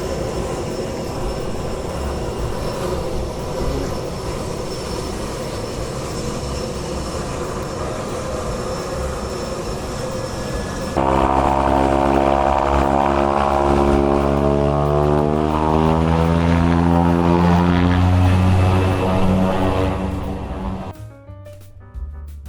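A propeller crop-spraying airplane flies very low over a potato field in cold weather. The engine drones at a distance, then roars loudly past overhead with a falling pitch before fading away.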